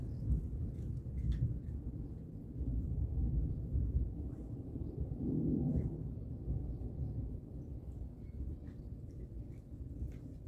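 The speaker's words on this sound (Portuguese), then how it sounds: "Não sei se vocês estão escutando os trovões." Thunder during a storm: a faint, low, continuous rumbling rolls on for several seconds and swells slightly near the middle, distant and quiet, with no talking.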